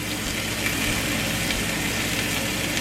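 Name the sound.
meat searing in a very hot pan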